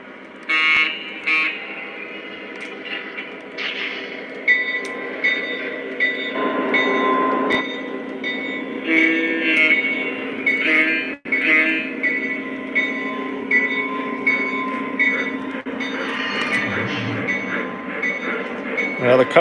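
MTH and Lionel model train running on track, a continuous clattering hum with motor whine and rail clicks, rising and falling as it moves, no talking.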